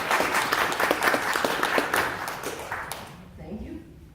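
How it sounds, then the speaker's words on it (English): A congregation claps in response to a voting prompt, with dense applause for about three seconds before it thins out and fades into quiet. "please applaud if you would prefer to take this rabbit home with you."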